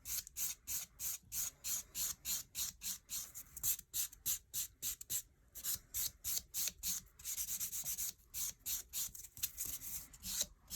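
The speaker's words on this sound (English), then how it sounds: "I'm just lightly filing off the last little bit that's left" Acrylic nail being filed lightly with a 180 grit file, a fast series of short, close scratchy rasping strokes in a steady rhythm with no talk.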